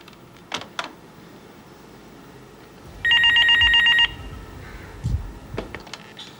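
A telephone rings in a short burst of electronic trilling, loud and close, with a few faint knocks and clicks from the room around it.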